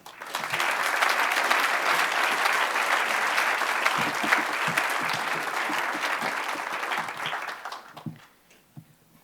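An audience applauding to welcome poet Laura Foley at a Vermont community reading: dense, steady clapping from a roomful of people for about eight seconds, then tapering off quickly into near quiet.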